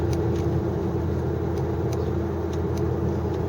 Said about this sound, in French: Et le bruit, bien sûr, magique hein, du V8.